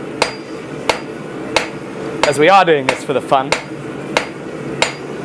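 A blacksmith's hammer strikes metal on an anvil during forging, sharp ringing blows spaced about a second apart with a brief burst of metallic clatter midway, while someone talks briefly over it.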